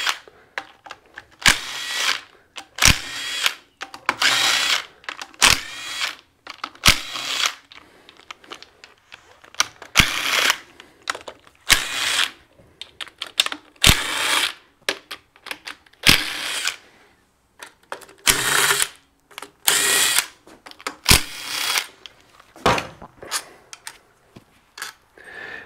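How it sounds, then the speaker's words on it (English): A power drill backs out 8 mm head bolts from a Massimo charging system cover, repeated short whirring bursts separated by pauses and small clicks, close and loud with no speech. "Then we'll go ahead and run and get all these 8 millimeter head 6x10 bolts out."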